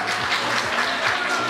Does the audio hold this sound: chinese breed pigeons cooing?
no